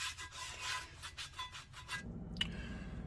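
An old beach towel rubbed briskly over a cast iron pan to dry it, giving close, rhythmic scrubbing strokes for about two seconds before the rubbing fades to quieter handling.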